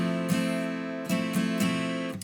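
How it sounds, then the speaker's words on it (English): An acoustic guitar is strummed in an Americana pattern, several bright full chord strokes ringing out with sustained tones between them, close and clear, with no talk. "The strumming pattern is an Americana strumming pattern"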